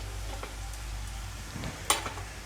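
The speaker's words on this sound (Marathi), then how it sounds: "हे मिश्रण चांगलं फ्राय करून घेऊ" Chopped onion with chili powder and turmeric sizzles softly in a pan, a steady low fry with a couple of brief stirring scrapes and one sharper utensil clink near the end.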